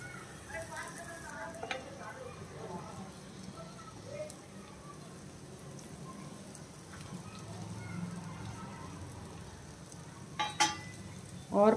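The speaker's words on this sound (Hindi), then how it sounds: "और ये जो हमने टिक्कियाँ बनाई हैं, एक एक करके हमें ये पैन के ऊपर हमें रख देना है।" Potato tikkis placed one by one into a nonstick pan with a little oil give a soft, steady sizzle throughout, with a few light clinks near the end.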